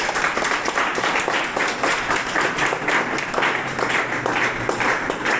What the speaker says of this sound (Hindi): ग्रेट, एक बार जोरदार ताली सबके लिए।